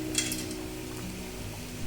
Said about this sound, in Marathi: आपल्याला सर्व मसाल्याचे पदार्थ याच्यामध्ये घालून घ्यायचे आहेत मी ते सर्व मसाल्याचे पदार्थ घालून घेते कुकरमध्ये